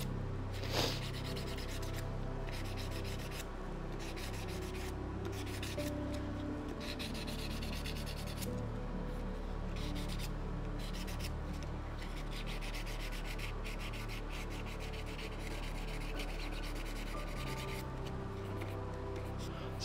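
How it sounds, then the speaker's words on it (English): Steady close sanding of a 3D printed resin He-Man head, continuous dry rubbing strokes of abrasive on hard resin going on for around twenty seconds without speech. "I'll usually overfill those so that it turns into a bump, and then I can sand them smooth"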